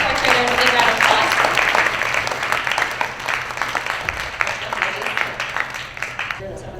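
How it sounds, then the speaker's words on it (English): Audience applause at a school Student of the Month assembly for fourth graders, dense steady clapping that holds for several seconds with some murmuring voices mixed in, tapering slightly toward the end. "Give those fourth graders a big round of applause"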